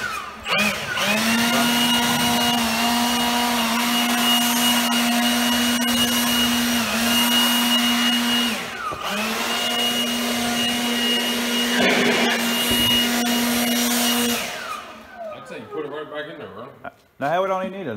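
A 4x8 CNC machine fitted with a new router cuts plywood with a loud, steady high-pitched whine that dips briefly, then winds down near the end as people talk.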